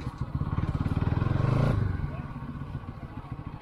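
A modified Bajaj NS 200 motorcycle engine thumps at a rapid, even idle-like pulse, swelling briefly louder mid-clip before easing back, close by and continuous.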